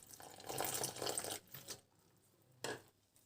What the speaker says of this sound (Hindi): अब हम पानी डालेंगे और बेसन को लगाएंगे।